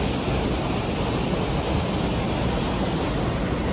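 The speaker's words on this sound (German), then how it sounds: "Kleiner Wasserfall." A small waterfall pours during a rainy, humid outing in northern New Zealand, giving a steady, dense, broadband rush that holds loud and unchanging throughout, with no voices.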